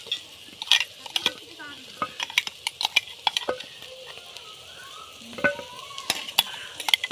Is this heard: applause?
no